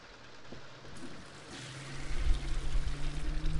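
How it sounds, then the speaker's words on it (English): A toilet flush starts softly and swells into a loud rushing, gurgling wash of water close by, with no talking. "Stop flushing."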